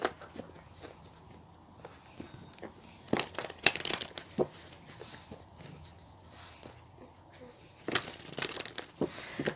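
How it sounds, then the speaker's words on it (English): Tarot cards being shuffled by hand, soft crinkly riffling and papery slaps arriving in a few short bursts amid quiet rustling and handling noise, close and faint. "I'm just going to give the cards a general shuffle"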